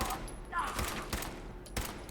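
Rapid automatic gunfire from enemy fast guns in the Fallout 4 video game, a few short bursts of shots spread over two seconds at moderate level.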